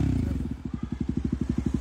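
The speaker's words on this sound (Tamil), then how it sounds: "Give exhaust note." A Bajaj Dominar motorcycle's exhaust gives a deep, close single-cylinder thump that settles into a steady, rapid pulsing idle, loud and alone with no talking.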